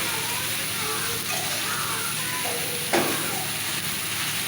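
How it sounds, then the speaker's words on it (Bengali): Vegetables stirred and fried in a pan, a constant hissing sizzle with faint scraping movements and one brief louder knock near the end, close and fairly even throughout. "এখন আমি সবজিটা ভালোভাবে নাড়িয়ে চাড়িয়ে নিচ্ছি। ভালোভাবে ভেজে নিচ্ছি।"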